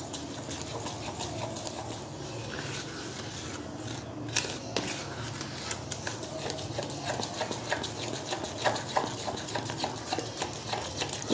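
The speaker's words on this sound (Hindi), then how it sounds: "इसको 2 मिनट बहुत अच्छे से फेंटें ताकि इसमें बिल्कुल भी लम्स ना रहें।" Eggless chocolate cake batter with milk is whisked briskly by hand in a bowl, a fast, continuous rhythmic tapping and scraping that grows a little louder toward the end, fairly quiet.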